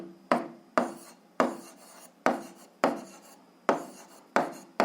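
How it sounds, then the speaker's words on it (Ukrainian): Pen strokes on paper while working an algebra exercise by hand: a series of about eight short, close scratchy strokes in an uneven rhythm, each one sharp at the start and fading quickly, with no voices. "А зараз записуємо, отже."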